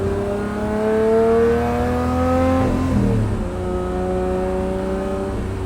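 A straight-piped Lamborghini Murcielago cruises at partial throttle, heard from inside with the windows down: a loud, continuous exhaust drone whose pitch rises, dips with a gear change, then holds steady.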